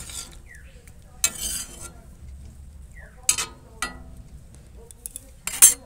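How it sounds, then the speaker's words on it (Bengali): Papaya pieces stirred in boiling sugar syrup over a high flame for tutti frutti, with a few separate scraping and clinking strokes of a utensil against the pot over a faint low bubbling background. "দিয়ে পেঁপেটা দিয়ে একটু নাড়াচাড়া করে এটাকে ভালোভাবে হাই ফ্লেমে ফুটিয়ে নেব"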